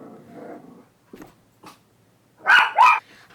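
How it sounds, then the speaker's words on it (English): Several dogs bark during a paper-crafting session at home: faint scuffling first, then two loud, close barks in quick succession near the end. "oh, I have dogs going crazy"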